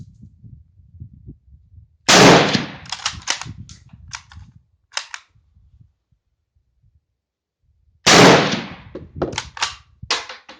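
Two sharp, loud rifle shots from a Turkish Gew 88/05, several seconds apart, each followed by a short echoing decay over a quiet background.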